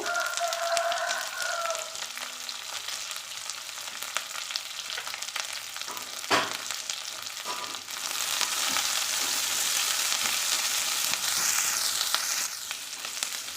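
Small sambar onions, a large onion and curry leaves sizzle in hot oil in a pan, a steady close frying hiss that grows louder partway through, with occasional stirring and no voices.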